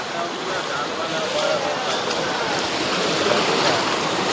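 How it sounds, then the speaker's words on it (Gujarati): Floodwater rushes through a village in Surendranagar, Saurashtra, as a constant loud roar of flowing water, with people talking over it. "અમારા ગામમાં બહુ પાણી આવી ગયું ભાઈ. આ બધા તણે તણે જાય બધા પાણી."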